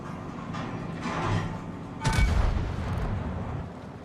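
Warship guns in a naval battle game fire a heavy booming salvo that rolls out over a low rumbling background, preceded by fainter distant thuds.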